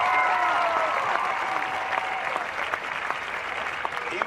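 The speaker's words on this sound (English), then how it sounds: "Clap it up for them." A protest crowd claps for its members over fifty at an open-mic gathering, a dense, steady wash of many hands with a few tonal traces of voices or whistles early on.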